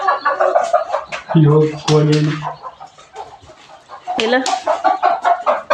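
Chickens cluck and call close by in a rural village yard, the bird sounds coming in short bursts mixed with people talking nearby.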